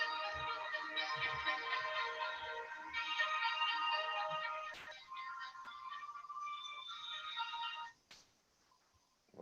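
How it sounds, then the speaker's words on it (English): A phone ringtone plays during an online town board meeting, a bright repeating electronic melody lasting several seconds before cutting off, fairly close with faint background noise. "Hold on, it's my phone."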